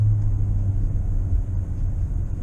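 A 2020 Hyundai Santa Fe engine held around 3,000 rpm while driving in sport mode with the shifter not upshifting, heard as a steady, low droning rumble inside the cabin, continuous and moderately loud.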